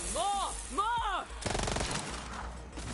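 Assault rifle fire in Borderlands 3 comes as a rapid, dense burst of shots in the second half, following a short voiced exclamation, with game noise continuing underneath.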